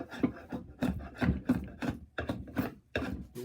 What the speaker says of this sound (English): So my next step is with the draw knife,